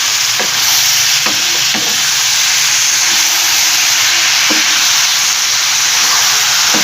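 Frozen mixed vegetables land in a hot karahi and hiss loudly with a steady, dense sizzle. A few sharp clinks of a utensil against the pan cut through it, and no one speaks.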